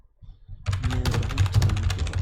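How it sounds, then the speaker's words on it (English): Loud, rapid clacking of a computer keyboard starts after a short quiet stretch and continues as dense, steady typing with crisp individual keystrokes close to the listener. "Sorry for my extremely loud keyboard."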